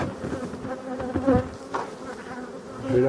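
Honeybees hum steadily around a hive at an apiary, a close, continuous buzz with individual bees droning past.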